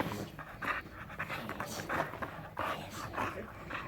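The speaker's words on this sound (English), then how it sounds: "Yes, a puppy." A puppy pants in quick, soft breathy bursts with faint whimpers, close but quiet, in an otherwise muted room.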